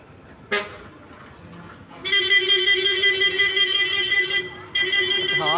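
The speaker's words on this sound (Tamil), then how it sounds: "சவுண்டெல்லாம் ஃபுல்லாக ஹாரன்" Loud, sustained bus horn blasts at Tirupur old bus stand in Tamil Nadu, one long tone and then another after a short break, near and piercing over street noise.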